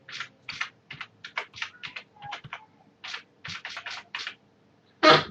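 A password is typed on a computer keyboard: crisp, close keystrokes in quick irregular runs with short pauses, ending on one heavier key press.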